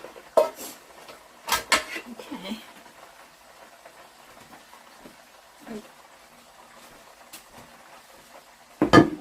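A small electric frying pan and utensils clank and scrape in a few sharp bursts close by, with quiet shuffling between and a brief spoken word.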